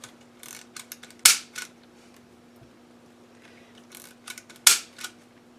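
Scissors snip ribbon while making a ribbon candy cane, with two sharp, loud cuts about three seconds apart among softer rustling and handling clicks close by.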